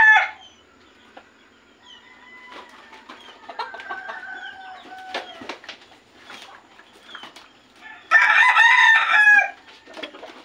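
A young gamecock stag crows nearby, with softer clucks and scattered farmyard sounds first, then one loud, strained crow near the end, and no talking.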